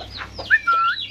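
Chickens being let out of their enclosure give short, nearby clucks and squawky calls, including a brief rising call, over faint background noise.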